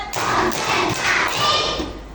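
A class of third-grade children claps a counted rhythm together, several sharp group claps in a steady pattern, close and fairly loud in a classroom.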